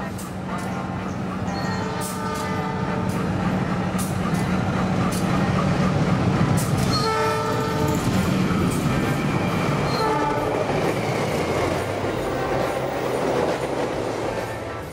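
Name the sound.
train travelling in Indonesia, with horn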